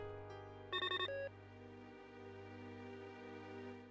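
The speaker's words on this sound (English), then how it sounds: "I guess we got another phone call." Telephone ringing in the video game The Pandora Directive: a single clear electronic ring burst near the start, followed by a steady humming background score with no talk.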